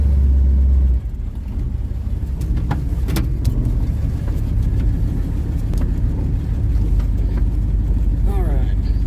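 An old hot rod truck's engine idles and rumbles after a cold start, a low, steady throb that drops slightly after a loud opening burst, with scattered knocks and a voice talking over it.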